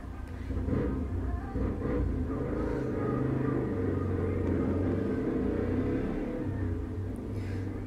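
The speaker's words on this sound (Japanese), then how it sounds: "お元気な車。" A loud car passes outside, its engine rumbling and revving with a low droning tone that rises and lingers for several seconds, heard from indoors at moderate distance.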